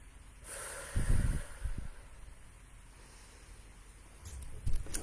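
A person draws one slow, deep breath in, a soft rushing inhale that swells and then fades, with quiet room air around it and no talking.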